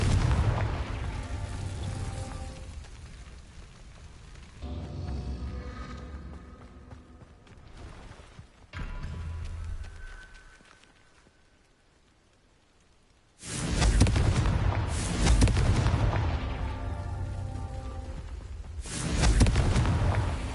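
Confringo fire-spell blasts in the video game Hogwarts Legacy, heavy rumbling explosions in loud bursts separated by a quieter stretch, with a final powerful boom swelling and trailing off.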